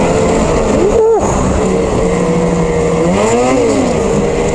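A 2022 Lynx Rave RE snowmobile with an 850 E-TEC engine runs loud and close, its pitch climbing and falling in two clear rev swells over a continuous roar.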